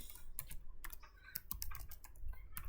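Computer keyboard typing while building an HTML and CSS form: quick, close, light key clicks in irregular bursts, including a copy-and-paste shortcut, with no voice.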